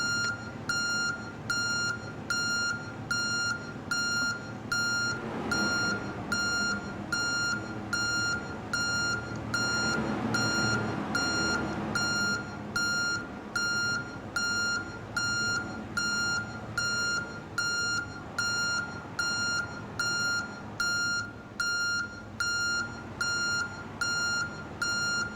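Steady repeating electronic beeps from a PMDG 737 flight simulator setup, evenly spaced and continuing throughout, over a low background hum with a brief rise in noise partway through.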